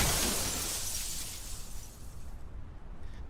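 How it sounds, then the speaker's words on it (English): Glass shatters in a sudden loud burst, then scattering fragments hiss and fade over a couple of seconds; no voices. "Thea seems to hear glass shatter."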